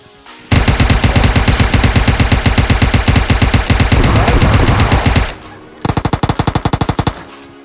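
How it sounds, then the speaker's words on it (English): Automatic weapons fire from PUBG Mobile's zombie mode rattles out in loud, rapid, sustained bursts for nearly five seconds, then falls briefly quiet before a shorter, clipped burst of shots. "I'm gonna shoot this guy."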